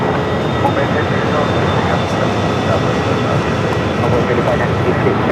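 A Delta Airbus A321neo jet takes off from runway 7 left at Phoenix Sky Harbor, a steady, loud broadband roar holding for several seconds with voices over it.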